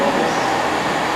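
A Great Western Railway class 180 diesel unit pulls into Reading station, a steady broadband rumble of wheels and engine holding at an even level throughout, close by and with no voices.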